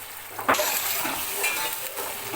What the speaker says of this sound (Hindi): अब इसमें मैं डाल रहा हूँ अदरक का पेस्ट और लहसुन का पेस्ट।